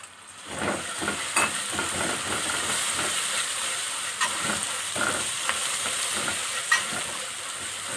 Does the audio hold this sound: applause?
no